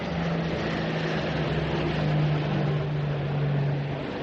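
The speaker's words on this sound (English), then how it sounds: "4 engines. That's either a Sunderland or a Focke-Wulf nosing about." Four-engine aircraft, either a Short Sunderland flying boat or a Focke-Wulf, droning overhead in wartime near a surfaced U-boat; a steady low hum holds throughout, moderately loud and without talk.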